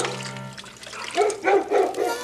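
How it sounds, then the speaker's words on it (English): Stray dogs bark in a few loud, close bursts near a vacant lot in an animated family comedy, following a stretch of quieter background sound. "Damn, those stray dogs."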